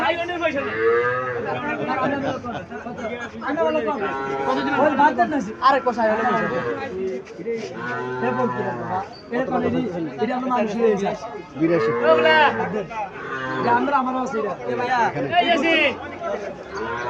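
Sahiwal breed heifer calves moo again and again at a busy cattle market in Comilla, their loud, drawn-out calls overlapping with crowd chatter.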